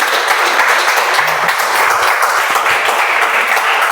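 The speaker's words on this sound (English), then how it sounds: "Please give a huge round of applause for DTM Toastmaster Nibby." A room full of people at a Toastmasters club meeting applauding to welcome a speaker, steady close clapping that stays loud throughout.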